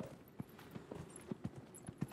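Horse hooves clip-clopping in the video game Dragon Age Inquisition, a steady trotting rhythm of soft, evenly spaced thuds, quiet and close with no other sounds over it.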